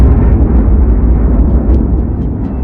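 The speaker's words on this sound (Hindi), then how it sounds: "बीच के इस भयंकर दबाव के कारण एक विशाल विस्फोट हुआ" A huge explosion effect marking the birth of the Sun, heard as a loud, sustained roaring rumble with heavy low-end that continues steadily for the whole passage, with no voice present.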